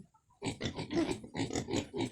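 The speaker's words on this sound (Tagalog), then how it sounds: "May baboy damo dito, tingnan natin." Wild pigs (baboy damo), several of them, grunt and snort in a quick series of close, rough bursts after a brief quiet start.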